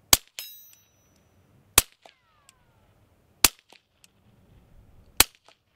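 Four sharp, loud pistol shots fired at targets about 55 yards away, evenly spaced about 1.7 seconds apart, each followed by faint metallic pings and quiet pauses.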